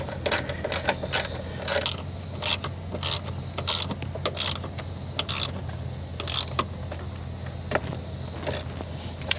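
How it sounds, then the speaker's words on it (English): Screws being tightened on the under-seat safe of a Tesla Cybertruck: repeated short ratcheting clicks and metallic mechanism clatter in quick bursts, close by with a steady low background hum. "So I'm going to tighten them back up"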